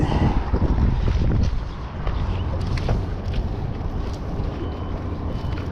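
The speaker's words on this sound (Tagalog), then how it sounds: "Medyo mahangin lang, pero sakto lang yung hangin." Steady wind gusts buffet the microphone with a broad rushing roar, strongest at the start and then settling into a continuous blustery hiss.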